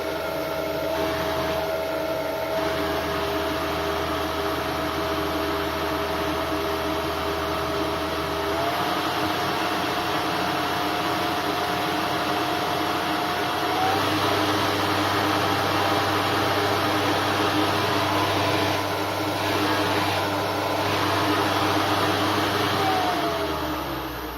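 Cooling fan of a 2.2 kW spindle running on a test, giving a steady close whirring drone with a faint tonal whine that shifts pitch slightly a couple of times, with no voices.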